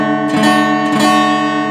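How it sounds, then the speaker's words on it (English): Out-of-tune steel-string guitar strummed in a chord, two close strums ringing with clashing, sour sustained notes, played alone and fairly loud. "And if your guitar is not in tune, your chords are going to sound"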